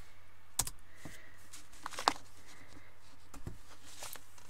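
Typing on a computer keyboard to enter a formula in Excel. A few sparse, quiet clicks and taps sound close by in a calm room.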